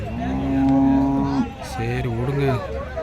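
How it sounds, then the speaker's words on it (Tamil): At the Karungalpalayam cattle market in Erode, a cow lets out a loud, close, drawn-out moo and then a second, shorter bellow, with market bustle behind it. "மாடு ஆனால் நல்ல மாடு அருமையான மாடு"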